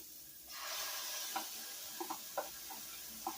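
Food sautéing in a pan for a one-pot dinner, a soft sizzle swelling up and holding steady, broken by a few light stirring taps, quiet and close with no talk.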